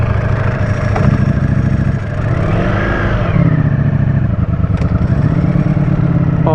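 A 2023 Ducati Streetfighter V4 SP2 V4 motorcycle engine runs loud and close, idling with a lumpy, uneven throb and brief blips of revs rising and falling, with no voices.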